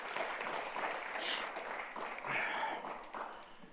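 Faint, distant applause from a church congregation at a Sunday service, a soft spread of clapping that swells and fades slightly.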